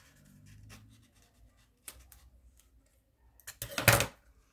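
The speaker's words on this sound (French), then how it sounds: "Et là, on coupe aussi." Scissors snipping through material while a small pouch is being made, a few soft cuts followed by a louder burst of close crisp snipping near the end.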